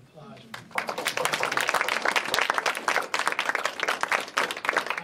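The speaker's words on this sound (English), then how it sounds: "let's give her now another round of applause." Steady applause from an audience at a talk on Colorado carnations, many hands clapping briskly for several seconds, with some voices mixed in.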